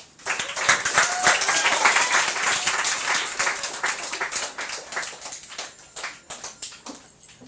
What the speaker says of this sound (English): Give a big round of applause for first-timer Pamela.